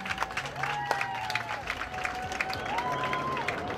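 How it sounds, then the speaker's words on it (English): Applause from the audience at a lash competition after-party, with scattered clapping and crowd noise under tonal sounds and some voices, moderately loud and continuous. "Let's give Emily a round of applause."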